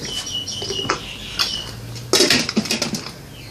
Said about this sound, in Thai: เราก็จะผัดไปเรื่อยๆนะคะ มันจะติดตะหลิวสักหน่อยนะคะ